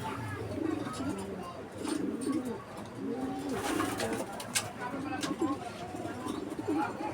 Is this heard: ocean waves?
no